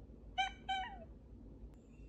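Two short, high cat meows in quick succession from a mobile cat game app, clean and synthetic-sounding, over a quiet background hiss, followed by a faint high tone.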